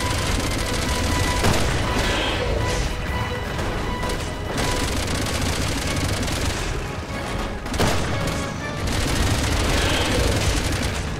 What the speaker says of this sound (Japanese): ヘリに撃たれまくってるよ。